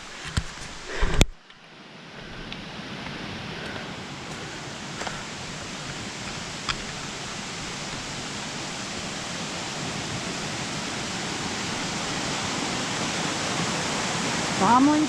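Bromley Brook on the Appalachian Trail rushes in a steady, loud broadband roar that fills the scene after a few brief bumps at the start, with no one speaking.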